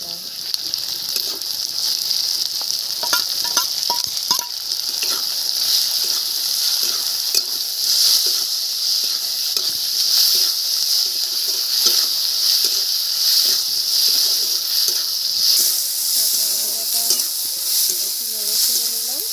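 Crab frying in hot oil for a spicy crab dish, a loud continuous hissing sizzle with crackles and occasional stirring scrapes, close and steady throughout.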